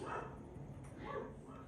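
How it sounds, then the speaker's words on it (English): Faint dog barks and yips come from another room indoors, brief and muffled under a low steady background hum. "So if you hear my dogs barking, apologies."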